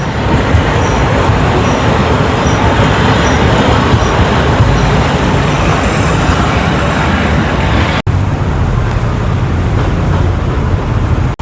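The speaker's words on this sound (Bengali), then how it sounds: "আর এই আমাদের ট্রেন আমাদের ছেড়ে চলে যাচ্ছে।" A train pulling away from a station in Sri Lanka, a loud continuous broadband rumble and rush of rolling wheels and traffic-like noise, close to the listener, with a brief cut near the end.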